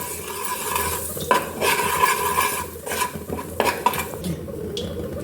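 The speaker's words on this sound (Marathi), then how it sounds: "हे सर्व जिन्नस एकजीव करून घ्यायचे।" Spoon stirring red chili powder and dabeli masala together in a pan while preparing street-style Kutchi dabeli, with steady scraping and a faint sizzle, plus a few sharper clinks of utensil against metal.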